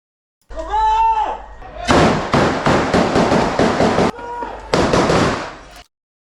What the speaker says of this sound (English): and his friend is firing to the side.